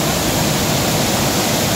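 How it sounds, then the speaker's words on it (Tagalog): Daranak Falls roars continuously, a dense, steady rush of heavy water pounding down into the pool below, loud and close with no break. "Ang lakas na impact ng tubig pa ibaba oh."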